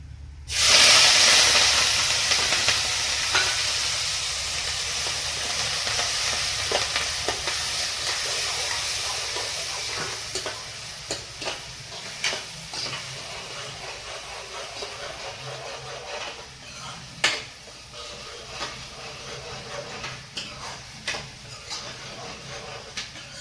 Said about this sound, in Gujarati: સૂકી ભાજીનો વઘાર દઈ દીધો છે.